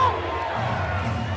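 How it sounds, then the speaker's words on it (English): Crowd cheering at a Legends Football League game between LA Temptation and Austin Acoustic, a broad, loud roar of the stadium audience under a commentator's talk. "This crowd again."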